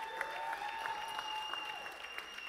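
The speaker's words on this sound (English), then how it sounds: "Give yourselves a round of applause." An audience at an artists' gathering gives a steady round of applause, quiet and somewhat distant, with a continuous wash of clapping throughout and thin tonal hum beneath.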